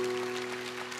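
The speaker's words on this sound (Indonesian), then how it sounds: "Kasih tepuk tangan untuk Tuhan." A church congregation gives a short burst of applause during a sermon, a brief, even patter of many hands under a steady tonal hum.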